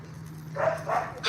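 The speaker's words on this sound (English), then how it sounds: "He's a nice little dog." A small dog gives a few soft, close yips or short barks over a steady low hum, the last one sharper and louder.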